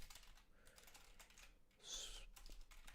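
Quiet, rapid clatter of fingers typing on a computer keyboard, irregular bursts of key taps with a short pause, faint and close.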